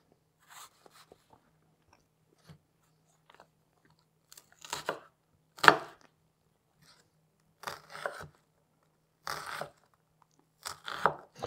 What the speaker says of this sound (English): start making it by cutting the onion with the small pieces